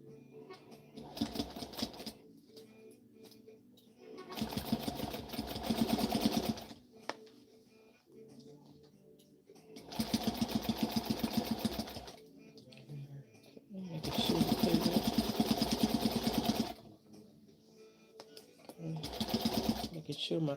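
Home sewing machine stitching darts on a vest pattern, running in about four loud bursts of rapid needle clatter separated by pauses, with a person talking quietly between runs.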